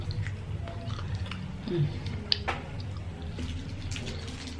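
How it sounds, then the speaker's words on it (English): Gum chewing close to the microphone in a quiet indoor ASMR setting, soft moist smacks and clicks over low background hum, with a sharper snap partway through. "I'm chewing gum."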